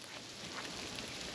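Steady rain falls during a windy storm, a constant broadband hiss of drops on surfaces with no distinct individual impacts and no voices.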